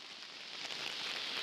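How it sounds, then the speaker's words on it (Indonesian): Heavy rain falls at a bridge during a fishing outing, a dense, steady hiss of drops that builds slightly louder, with no voices. "Aduh, hujan euy."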